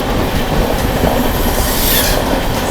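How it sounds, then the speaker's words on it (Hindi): The Chauri Chaura Express passes on the crossing track beside the Shiv Ganga SF Express, a loud, steady rolling roar of wheels and carriages with rattling and faint squeal, very close and continuous. "चलिए भाई सामने से आ रही है चौरी चौरा एक्सप्रेस"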